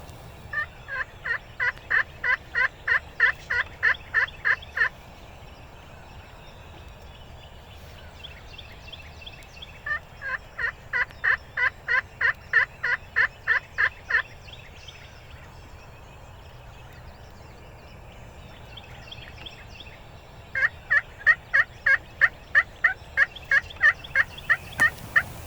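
Wild turkeys gobble outdoors in the morning, three separate rapid rattling bursts of about a dozen pulses each, spaced several seconds apart over a quiet, breezy background.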